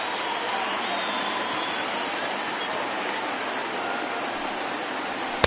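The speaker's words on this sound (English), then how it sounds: "Now this small but vocal crowd come to their feet." Small but vocal baseball crowd at an Angels versus Marlins game, cheering steadily as fans rise to their feet, a broad continuous roar holding even throughout, with a sharp knock right at the end.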